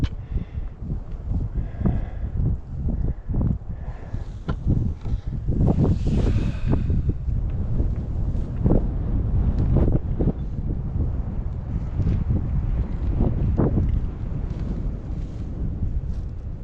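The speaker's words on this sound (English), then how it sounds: "So windy up here" Strong wind gusts across an open mountain ridge, buffeting the microphone in loud, uneven surges that swell and ease throughout.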